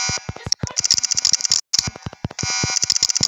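Loud, close alarm in the Roblox video game, a steady high electronic tone broken by a short gap and overlaid with rapid clicking and tapping.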